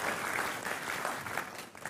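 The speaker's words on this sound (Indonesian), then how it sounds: "Kasih tepuk tangan untuk Tuhan kita." A church congregation breaks into a brief, even burst of applause during a sermon, sounding somewhat distant and fading slightly toward the end.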